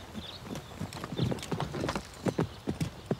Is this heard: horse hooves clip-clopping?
yes